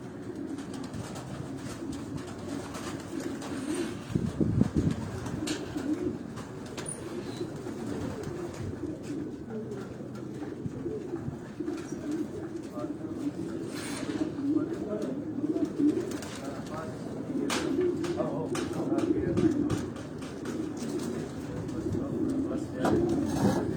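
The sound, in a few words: racing pigeons cooing in a loft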